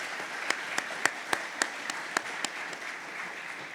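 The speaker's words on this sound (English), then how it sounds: "So one more round of applause, please, for Bruce." Press-conference audience welcoming Bruce Arena as the Earthquakes' new head coach with applause, a soft sustained patter broken by several sharp, close camera-shutter-like clicks at regular intervals.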